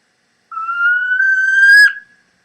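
One long, clear whistled whine from a mountain owl rises gently in pitch and then breaks off with a short wavering end, heard alone against silence.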